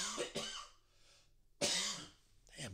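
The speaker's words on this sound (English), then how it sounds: "I've been coughing for like a month" A man coughs hard a few times close to the microphone: a pair of harsh bursts, a pause with breathing, then another rough cough and a final short one.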